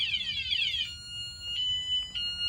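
A bicycle anti-theft alarm shrieks with rapid warbling high-pitched tones, then switches to steady shrill beeps that pulse on and off, moderately loud nearby.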